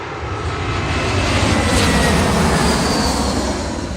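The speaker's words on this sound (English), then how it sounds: "Let this plane pass and I'll talk about it." An airplane passes at an airport, its loud, steady broadband engine roar filling the whole stretch without letting up and with no talking over it.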